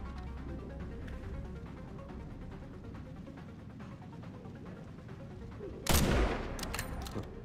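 Gunfire from the video game Resident Evil Requiem: a sudden sharp burst of shots near the end cuts through a low, faint game ambience.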